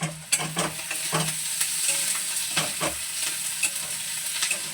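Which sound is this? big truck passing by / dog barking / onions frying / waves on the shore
onions frying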